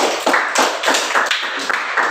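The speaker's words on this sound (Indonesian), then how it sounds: "Oke, tepuk tangan untuk Carlos." Children in a classroom clap for a classmate, a loud, quick rhythm of about eight sharp bursts in two seconds.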